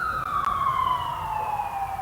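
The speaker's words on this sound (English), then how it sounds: "Y'all hear that ambulance?" An ambulance siren wails in a steady descending tone, loud and fairly near, with faint road rumble beneath.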